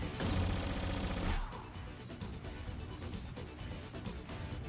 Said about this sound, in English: A blast of energy rounds collided with her gear.